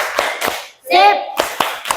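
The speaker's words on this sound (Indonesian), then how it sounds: "Boleh kita kasih tepuk salut, bisa enggak?" A classroom group claps a patterned salute clap, sharp close hand claps in a rhythmic sequence, broken in the middle by a brief chanted shout from the group.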